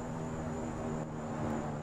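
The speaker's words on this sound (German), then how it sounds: "Ich höre ein Flugzeug." An airplane passing overhead in 7 Days to Die, a constant low engine drone with a steady hum, even and unbroken through the short stretch, no voices.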